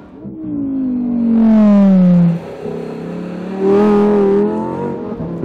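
A Lamborghini Huracan sports car engine revs hard on a road test, its loud rising howl climbing through a gear, dropping on a short shift, then surging again with a sharp upward sweep.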